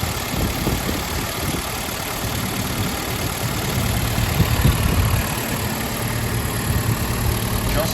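A 1967 Alfa Romeo Giulia 1300 ti with a single center muffler idles smoothly, a loud, steady low engine burble that holds throughout with a slight swell midway.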